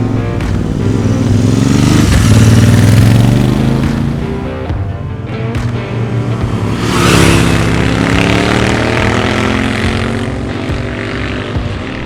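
A Royal Enfield Interceptor 650 motorcycle engine revs loudly and close by, its note rising and falling through two strong swells over a steady running drone, with no voices.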